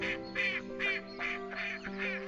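Ducks quacking at a wintering reservoir, among waterfowl such as pintail, shoveler and teal; a steady run of loud, nasal quacks comes in about five bursts close by, with no talk over them.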